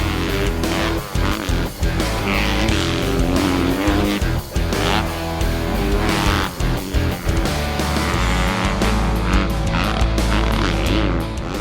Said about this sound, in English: As you can hear, we're already starting to ride.